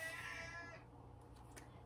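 A cat meows close by, a drawn-out call with a few shorter cries following, over low steady background hum.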